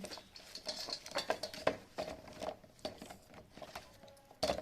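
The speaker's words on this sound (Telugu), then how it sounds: "పొట్టును చాక్తో ఇలా మెల్లగా తీసుకోవాలి" A knife scrapes and clicks against raw tamarind pods as their skin is peeled off, irregular light scratches and taps close by, with occasional sharper knocks.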